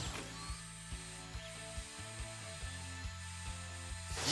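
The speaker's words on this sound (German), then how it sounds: "ich bohre die jetzt auch kaputt." Drilling in a Lost Judgment video game minigame, a quiet mechanical ratcheting whir that pulses in regular clicks about every half second, with shifting hum tones and no voices.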